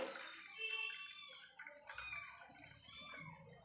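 Water from a glass splashes and trickles into a bowl of appam batter ingredients, a quiet, brief pour with a few drips and light clinks.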